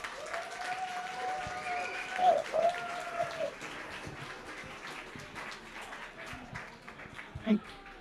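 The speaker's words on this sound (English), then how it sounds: "let's give a really warm round of applause" Warm audience applause greets a speaker taking the stage at a quantum science slam, a steady crowd of clapping hands filling the room, with some voices and a few louder claps rising over it.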